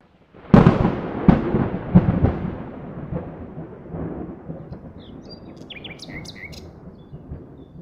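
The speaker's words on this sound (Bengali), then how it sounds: "মেঘ ডাকছে" Thunder rumbling in a rainy-day Bengali fairy-tale cartoon, opening with a loud crack and several rolling booms that fade into a long, low rumble, with bird chirps appearing near the end.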